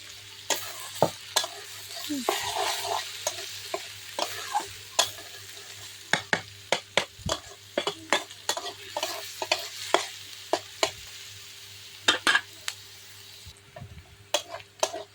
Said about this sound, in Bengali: তো এই যে পেঁয়াজটা ভাজা ভাজা হয়ে গেছে